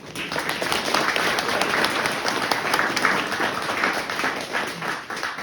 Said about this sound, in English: I think they deserve a round of applause also